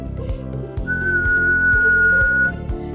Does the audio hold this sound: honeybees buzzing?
no